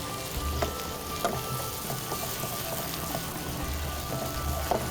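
Kashmiri kofta ingredients fry and are folded together in a pan, giving a quiet, steady sizzle broken by soft periodic scraping strokes from the mixing, close but fairly faint and without speech.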